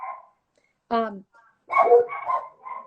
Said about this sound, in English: I have dogs. They're probably barking at a bird outside.